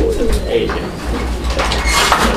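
Fancy pigeons coo softly amid steady background noise and muffled chatter at a pigeon sale, with a low, continuous murmur throughout.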